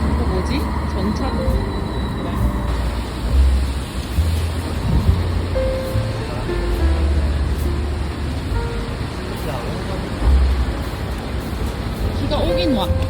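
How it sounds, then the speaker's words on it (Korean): Rain falls outdoors in Sydney near passing rail traffic, a steady wash of rainfall mixed with low rumbling vehicle noise while people talk nearby. "비가 오긴 와."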